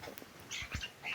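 Bird chirps from a Minecraft game, a few short high tweets and trills scattered over about a second, fairly faint against a low background, with no talking.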